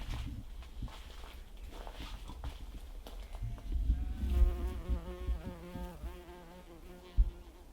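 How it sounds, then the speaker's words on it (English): Soft buzzing of bees around tomatillo flowers in a polytunnel garden, with faint steady hum and occasional rustles and light knocks nearby. "the bees are pretty happy about my tomatillos"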